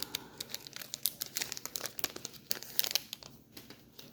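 Crisp crinkling and tearing of a foil trading card pack for TMNT cards being opened up close, a rapid irregular run of crackles with no talking.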